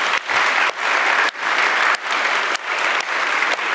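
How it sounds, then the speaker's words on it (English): Audience at a university game programming lab final presentation applauds, a dense steady clapping that swells in bursts with brief dips, loud and near, with no talk over it. "let's give him a round of applause."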